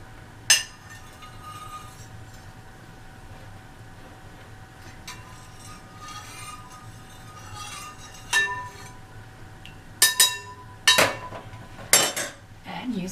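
Fabric is stirred in a pot of dark purple dye. A steady low hum runs underneath, with sparse clinks and knocks of a utensil against the pot that grow more frequent toward the end.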